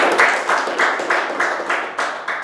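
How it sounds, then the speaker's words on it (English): A round of applause for the speakers at an evening Toastmasters meeting, its claps in quick steady pulses filling the whole span at moderate loudness, with no talk over it. "I would like to congratulate all of them with a big round of applause"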